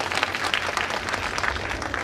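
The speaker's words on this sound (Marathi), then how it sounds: "मग टाळ्या कोण वाजवील?" Crowd applause at a political rally, a dense, steady clatter of many hands clapping close by for about two seconds with no talk over it.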